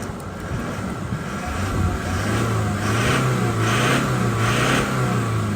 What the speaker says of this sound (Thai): มาดูฟังเสียงเครื่องยนต์คราวนี้นะครับ ฟังเสียงเครื่องยนต์